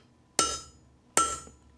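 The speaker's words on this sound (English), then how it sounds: "I have my dapping punch, and then I'm gonna grab my hammer again, and we're gonna dap this" Two sharp metallic strikes of a hammer on a steel dapping punch, doming a piece of silver in a dapping block for a jewelry setting; each hit rings briefly and decays, spaced under a second apart and heard close with no talking.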